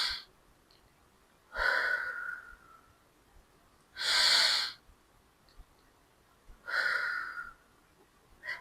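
Three slow, deep breaths, each a soft airy rush of a second or so, spaced a couple of seconds apart, with near silence between them.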